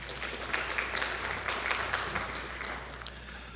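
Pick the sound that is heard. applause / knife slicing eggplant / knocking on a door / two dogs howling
applause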